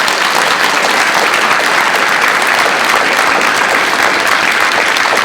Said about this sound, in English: So I'd like to give all of our parents and students a round of applause